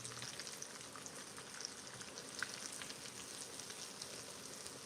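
Continuous sizzling and crackling of chicken frying in hot oil, a steady bubbling hiss heard close up.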